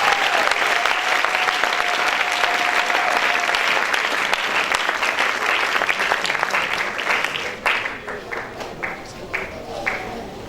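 A church congregation applauds loudly and steadily for about eight seconds, the clapping then thinning into scattered claps as it dies away near the end.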